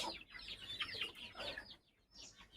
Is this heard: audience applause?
no